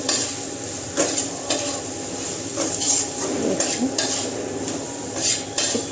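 Spices with a little cumin powder are stirred in a hot pan, repeated scraping and clinking of a metal spoon against the pan in irregular strokes over a low background sizzle, close and without talk.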